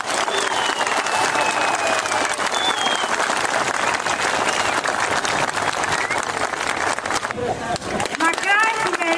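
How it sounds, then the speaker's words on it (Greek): A crowd applauds the Greek Prime Minister with loud, sustained, dense clapping close by, mixed with cheering voices and a voice rising over it near the end. "Ένα χειροκρότημα για τον Πρωθυπουργό μας."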